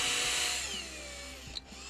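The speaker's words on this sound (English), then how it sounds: "Get the drill going, and there we go" A power drill whines at high speed as it drills through wood, its pitch sliding downward as it bites, then slows and stops with a brief click.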